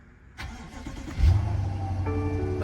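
A well-kept car at a salvage auction lot fires up: a brief starter crank followed by the engine catching with a loud rev, then settling into a steady, close, rumbling idle.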